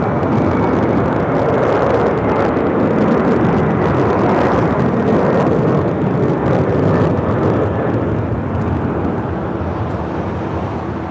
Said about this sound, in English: 6265 taking off to Seoul on a 31-year-old 747-400 converted freighter.